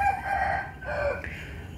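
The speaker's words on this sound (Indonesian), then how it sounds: "Ayam." A rooster crows once in a long, drawn-out call, moderately close, set against a steady low background hum on a guppy fish farm.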